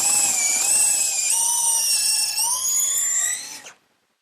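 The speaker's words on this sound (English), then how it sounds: "I'm just going to use a larger bit in the drill." A power drill whines steadily while a larger bit enlarges a pilot hole in wood, its high pitch rising and shifting under load for about three and a half seconds before spinning down and stopping abruptly.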